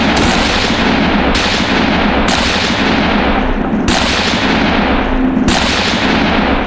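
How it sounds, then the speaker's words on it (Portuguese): Loud gunfire in a film scene as two killers fire repeatedly at a man, with about five sharp reports spaced a second or so apart, each trailing off into echoing decay. "foi morto por diversos disparos dos dois assassinos"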